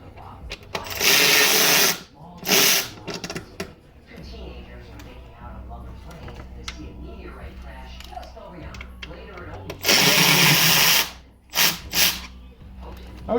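A power drill drives bolts into a cover board on a Softail motorcycle in a shop, with two pairs of loud whirring bursts of one to two seconds each. Someone talks between the bursts.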